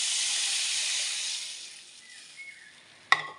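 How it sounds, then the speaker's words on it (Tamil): Coconut-milk rasam with tamarind, turmeric, garlic and curry leaves in a pan gives a loud steady sizzling hiss that gradually fades, ending with one sharp metallic clink. "இது கொதிக்கட்டும்"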